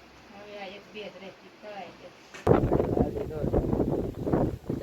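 Strong wind gusting at a farm field, a soft breeze at first then a loud, sustained roar of wind buffeting the microphone from midway on, with faint voices in the background.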